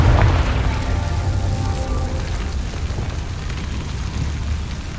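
A Confringo fire spell explosion in the Hogwarts Legacy video game rumbles loud and near, strongest at the start, then settling into a dense, steady roar that slowly softens.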